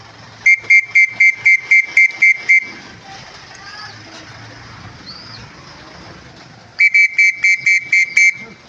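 Whistle blown to call racing pigeons back to the loft, a run of rapid, evenly spaced loud shrill pulses, a pause filled with distant ambient noise, then another burst of quick pulses.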